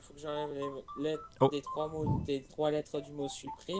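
Telephone keypad dialing tones beep in short bursts under a conversation in French, the tones interleaved with the speakers' voices.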